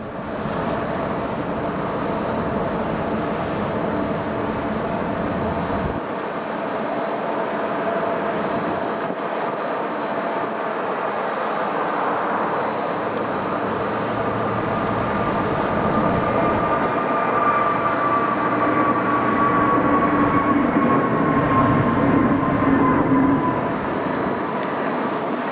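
A Finnair airplane at Manchester Airport, a loud steady jet engine roar with a rising whine and shifting tones, sustained throughout at fairly close range, with no talking.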